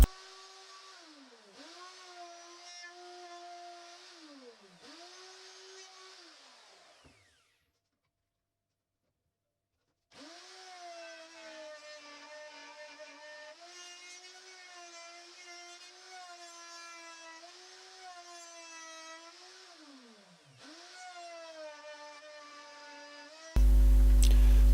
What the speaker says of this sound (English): Here I am routing out the rebates for the other two sides of the mirror.